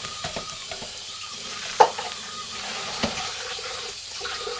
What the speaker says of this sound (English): Take a clean spoon and give it a stir.